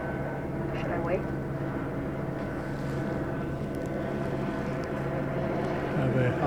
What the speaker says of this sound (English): Have a helicopter flying over.